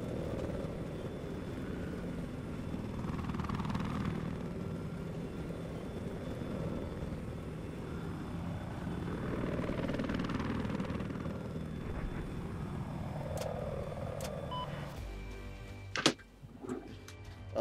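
Attack helicopter rotor in a combat video game, a steady low whirring drone running throughout with battle noises layered over it and sharp impacts near the end.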